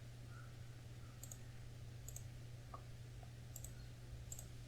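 Crisp, faint computer mouse clicks come while modelling in CATIA V5 software: four sharp, evenly spaced single clicks over a low steady hum in a quiet room.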